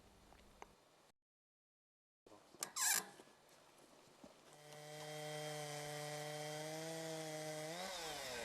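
A Logosol Big Mill chainsaw mill cuts through a wooden slab, the chainsaw starting with sharp bursts after a short silence and then settling into a steady, loud, sustained whine until it winds down near the end.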